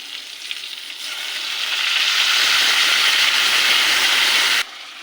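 Potato and pointed gourd fry in a pan of hot oil, a close sizzling hiss that builds over the first two seconds, holds steady and loud, then drops off sharply near the end.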